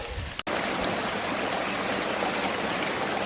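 Water from a stream running down a hiking trail in the Adirondacks pours steadily and fills the whole stretch with a close, constant rush, and a short dropout breaks it near the start.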